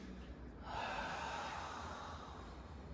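A slow, soft exhale during a guided breathing exercise, a faint steady breath that swells and fades back, with no talking over it.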